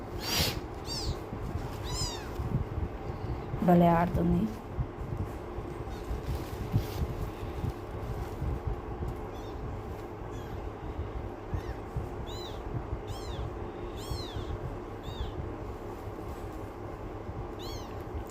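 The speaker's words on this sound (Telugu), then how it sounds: "పిల్లి మాత్రం చాలా యాక్టివ్గా ఉంది" A pure white kitten meows in a short, clear burst near the start, then stays quiet against low room hum and faint high chirps, with a person speaking briefly.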